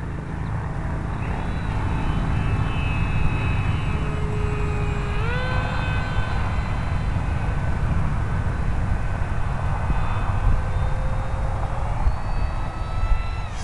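An Air Hogs Titan toy model airplane's motor whines steadily, its pitch sliding up and down as it flies, over a constant low rumble of wind or background noise.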